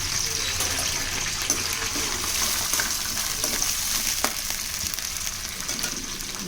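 Onion pieces, green chilies and carrot sizzle steadily in hot oil in a pan while making egg rice, a continuous bright frying hiss with small crackles and stirring scrapes throughout.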